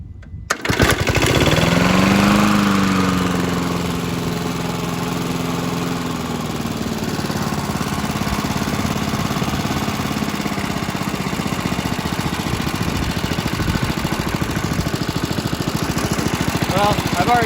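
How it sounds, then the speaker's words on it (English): 1963 Briggs & Stratton 3hp crank-top lawn mower engine, Coast-to-Coast Rolo-Coaster, firing up and settling into a steady, loud running drone at about half throttle for the rest of the clip. "Throttle about halfway and pop."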